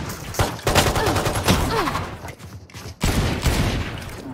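Video game gunfire rattles in loud, repeated bursts that come close together, with a short lull about two-thirds of the way through before the shooting resumes.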